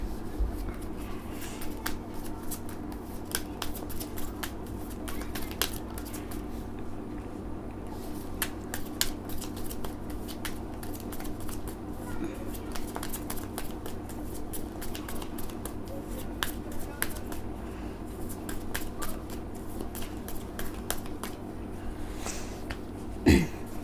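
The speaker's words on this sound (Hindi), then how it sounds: "इनके कार्ड्स निकालती हूँ।" Tarot cards being shuffled by hand during a reading, a soft, steady riffling and sliding that runs throughout at low volume, close by and alone without talk.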